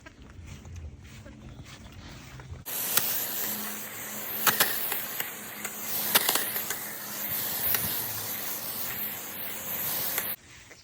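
Chapin hose-end sprayer applying liquid fertilizer over a front-yard lawn, a steady close hiss of water spray that starts suddenly and runs for about eight seconds before cutting off, with no talk over it.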